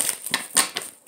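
Tarot cards shuffled in a few quick, crisp riffling bursts with short pauses between, close and fairly soft, with no talking.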